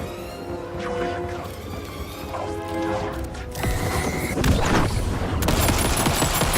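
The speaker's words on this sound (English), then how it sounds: "her pistol's like automatic" Automatic pistol firing in Alan Wake 2, a rapid burst of close, loud shots over a busy game soundtrack with crashing impacts.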